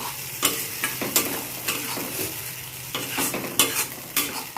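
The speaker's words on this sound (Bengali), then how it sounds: "মশলাটা ভালো করে কষিয়ে নেব।" Spice paste sizzling as it fries in a pan, with close, rhythmic scraping strokes of a spoon stirring it every half second or so over a constant hiss.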